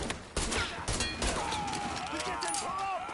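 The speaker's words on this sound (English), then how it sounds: "Shooting that fool" Rapid bursts of gunfire in Mafia 3, loud sharp shots crackling in quick succession at the start and around the first second, then trailing off amid whistling, ringing game effects.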